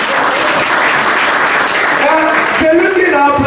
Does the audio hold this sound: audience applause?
yes